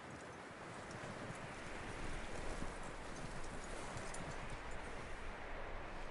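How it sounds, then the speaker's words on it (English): Horse hooves clip-clop in Red Dead Redemption 2, a steady trotting rhythm under a constant wash of wind and rustling, moderately close and fairly quiet, with no talking. "That looks like a decent horse."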